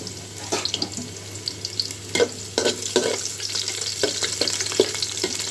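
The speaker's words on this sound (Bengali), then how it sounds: "পেঁয়াজটা আমি একটু লাল করে ভেজে নেবো" Onions and bay leaves fry in hot oil for biryani, giving a constant sizzle punctuated by several clinks and scrapes of a spatula against the pan.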